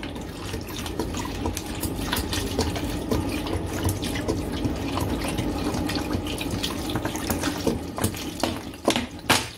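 Water pours steadily into a cooking pot of lentil soup, a continuous splashing stream filling the pot that stays close and fairly loud throughout, with a few stronger splashes near the end.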